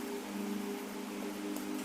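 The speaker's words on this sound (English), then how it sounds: "Listen to that rhythm, the soft patter of the rain, the faint crackle of the fire." Soft, steady rain patters quietly and evenly, a faint continuous hiss of drops with no voices.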